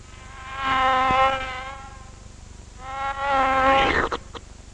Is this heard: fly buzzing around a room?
yes